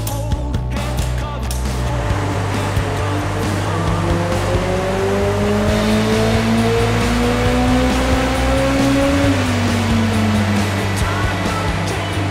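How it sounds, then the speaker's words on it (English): A modified Honda Integra DC5 fitted with a reworked airbox revs hard on a dyno, a loud continuous engine roar climbing steadily in pitch, then dropping briefly before settling, with no speech over it. "The first thing to do since Dave's arrived with this modified airbox is to put it straight on the dyno"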